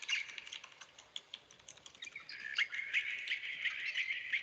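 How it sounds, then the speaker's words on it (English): Small birds chirping faintly in the background indoors, quick high tweets scattered throughout and mixed with soft clicking like typing. "Why do I hear bird creatures?"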